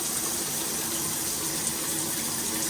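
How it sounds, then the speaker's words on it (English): Water gushes steadily from a newly plumbed shower valve in an old single-wide mobile home, a loud, even rushing spray that holds constant throughout with no talking. "There's some water coming in my shower."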